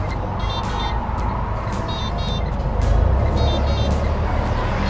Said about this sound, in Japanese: 今電気自動車が近くにいますよっていう音、